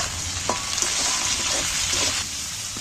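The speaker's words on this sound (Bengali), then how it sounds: "পেঁয়াজটা কিন্তু আমি বেশি ভাজবো না, হালকা করে একটুখানি নেড়ে নিচ্ছি। নেওয়ার পর এবার আমি ক্যাপসিকামগুলো দিয়ে দিচ্ছি।" Onion and capsicum frying in a pan for a masala fish curry, a continuous sizzle with intermittent scraping clinks of stirring, close and without talk.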